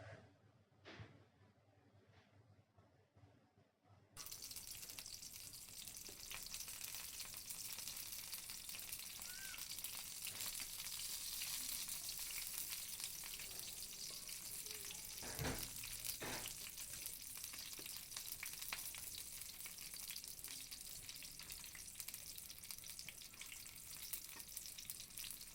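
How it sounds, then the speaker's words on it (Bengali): Dried fish (chepa shutki) and taro leaf fritters frying in hot oil in a wok, a steady loud sizzle running continuously after a quiet start, with a few brief clinks of utensils. "তেল গরম হয়ে আসলে একে একে বড়াগুলো কড়াইতে দিয়ে দিব"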